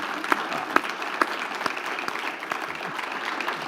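An audience applauds Dr. Adrienne Battle at a church gathering on poverty and public education, a steady burst of clapping with a few sharp louder claps standing out, the applause continuing evenly for several seconds.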